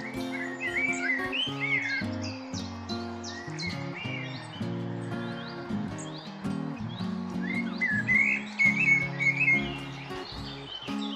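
A bird sings varied, whistled phrases in bursts over a dense layer of music or background tones, with clear pauses before the song resumes.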